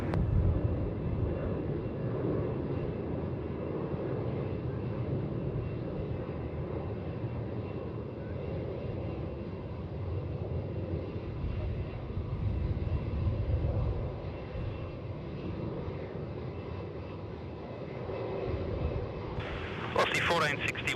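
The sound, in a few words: Boeing 787 jet airliner departing Melbourne Airport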